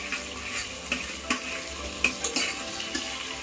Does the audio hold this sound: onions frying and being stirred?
yes